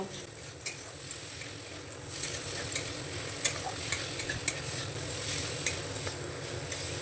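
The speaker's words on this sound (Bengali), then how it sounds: "মিশিয়ে মশলাটাকে আরও একটুখানি আমি কষিয়ে নেব" A spice paste for spinach curry stir-fried in a pan, with a soft continuous sizzle broken by repeated sharp spoon scrapes and taps against the metal.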